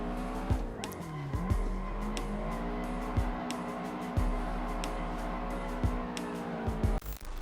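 Race car drifting in the Assetto Corsa sim, its engine droning at a sustained high pitch with rises and dips as the throttle is modulated, tires squealing throughout, and repeated sharp clicks or gear shifts punctuating the run.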